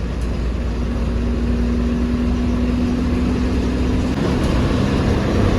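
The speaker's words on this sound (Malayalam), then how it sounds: "ഏറ്റുമാനൂർ വഴി കോട്ടയത്തേക്ക് പോകുന്ന ഒരു ലോക്കൽ വണ്ടി പോകുന്നു പത്തനംതിട്ട ഡീലക്സ് ആണ് കേട്ടോ കയറി പോകുന്നത്" A Pathanamthitta deluxe bus on the road through Ettumanoor toward Kottayam, its engine a steady, loud, continuous roar with a low drone throughout and no voices.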